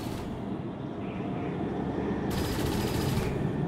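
Enemy turrets in XCOM 2 pound the ship with rapid, continuous automatic fire, a loud dense rattle that grows brighter and heavier partway through, with no voices.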